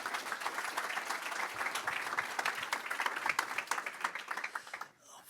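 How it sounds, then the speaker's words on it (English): Warm audience applause for two data scientists from the Dutch Tennis Federation taking the stage at a computer vision talk, a dense steady wash of many hands clapping that fades out near the end. "give them a warm round of applause"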